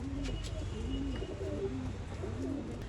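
Several pigeons coo in soft, low, throaty rolling calls, repeated in overlapping phrases close by, over a constant background rumble with faint chirps.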